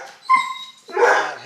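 A big female dog barks loudly at close range, two separate bursts split by a short gap, with no talking.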